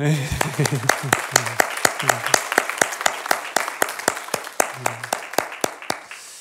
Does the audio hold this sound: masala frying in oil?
no